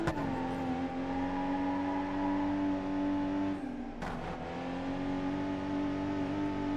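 A car engine holds a high, steady rev against the limiter, dips briefly, then climbs back to the same buzzing drone; a car sound from the video game BeamNG.drive.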